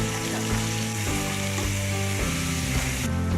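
Onion paste and garlic paste fry in a hot pan with a loud, steady, continuous sizzle, close up, and a few soft stirring scrapes through it.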